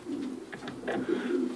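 Young breeding pigeons, Wehrmann Goosters, coo softly and repeatedly in a loft during breeding season, their low throaty calls rolling on close by with no talk over them.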